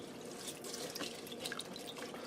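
Water poured into a pressure cooker, a quiet steady splashing and trickling stream lasting a couple of seconds, heard alone and close.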